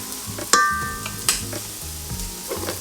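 Minced garlic frying in a pan, a steady close sizzle broken by a few sharp clinks and scraping stirs, with no talking.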